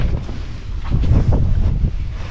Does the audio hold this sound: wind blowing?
yes